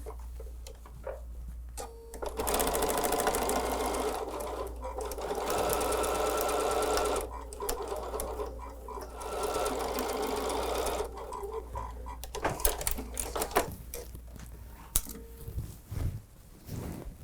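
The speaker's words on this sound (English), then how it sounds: "Let's go sew that and see how we did." A sewing machine stitches a quilt seam for a Father Christmas patchwork quilt, running in steady rapid bursts for several seconds, stopping briefly, then resuming before ending in a few clicks and handling noises.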